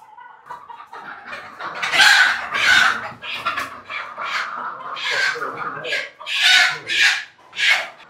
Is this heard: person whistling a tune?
no